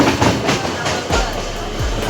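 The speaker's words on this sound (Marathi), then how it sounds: "गाडी ट्रेन आली" A train rolls in, a close, loud rhythmic clatter of wheels over rail joints with a low rumble, lasting a couple of seconds.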